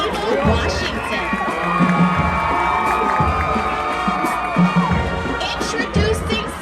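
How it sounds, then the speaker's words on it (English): A crowd at a high school football homecoming cheers and shouts continuously while announcer voices carry over the noise. "Let's give a warm round of applause for our senior maid, Miss Ava Washington."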